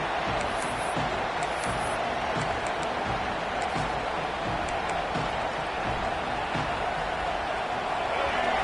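Steady roar of a football stadium crowd at a Tennessee versus LSU game, a constant distant wash of noise with faint whistles and murmurs, no clear cheering peaks.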